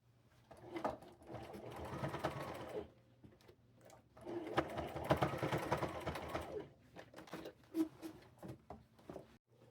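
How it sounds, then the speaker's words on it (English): A sewing machine stitches a piece onto a pair of thrifted denim jeans in two sustained whirring runs with a pause between them, followed by a few short bursts, fairly close and with no talking. "I'm going to cut it off to right about here, and I'm going to sew it on right here"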